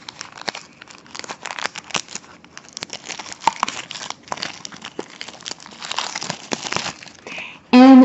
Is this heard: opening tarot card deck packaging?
yes